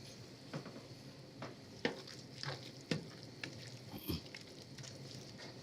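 A spoon stirs grated cheese into a barley, kale and butternut squash risotto in a pot off the heat, giving soft, intermittent scrapes and wet squelches, quiet and close.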